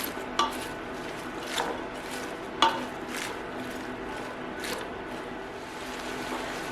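Cabbage sizzles softly in a pan for haluski while being stirred, a steady low frying hiss broken by a few light clinks and scrapes of a utensil against the pan.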